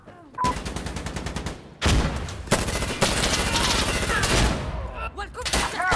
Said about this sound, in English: A lot of shooting going on underneath me.